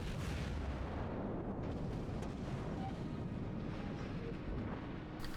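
Tirpitz battleship guns firing in World of Warships, a dense continuous rumble of heavy booms, distant and muffled, with no talk.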